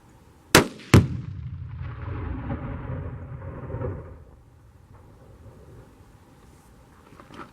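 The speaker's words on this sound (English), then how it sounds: "let's see what happens when tannerite goes off." Tannerite explosive detonating outdoors: two sharp, loud blasts in quick succession followed by a long rolling rumble that fades over several seconds, with no voices.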